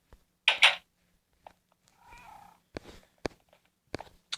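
Cats in a Minecraft pet shop give short, sharp meows and a soft purring stretch, separated by quiet gaps and faint clicks.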